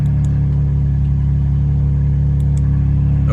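A BMW G80 M3 Competition with its stock exhaust valves closed idles with a loud, steady, deep engine rumble close by, holding a low even drone with no rise in revs.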